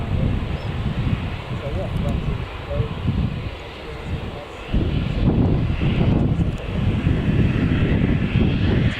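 A British Airways plane departs Newcastle Airport, bound for Salzburg. Its engines give a broad, roaring rush at a moderate distance, swelling and steady under gusting wind noise.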